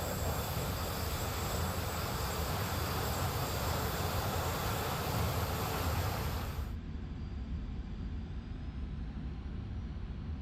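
A Su-25T jet in a power climb in the DCS flight simulator, a loud, steady engine roar with a broad whine that cuts its high hiss abruptly partway through while the rumble continues.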